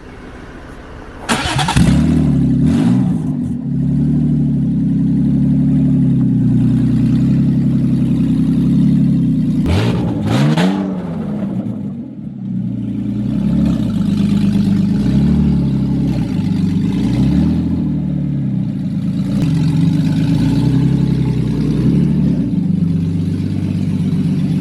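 A car with no exhaust downpipes cranks and fires up with a loud burst, then runs rough and loud, restarts midway, and settles into a steady, droning idle with uneven rises and dips, close by.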